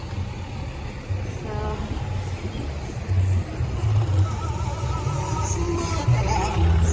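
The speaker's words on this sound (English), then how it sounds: "A little bit of traffic is starting already this morning." Morning street traffic in a town, with cars and trucks rumbling and idling nearby in a steady low drone, occasional louder passes, no clear talk over it.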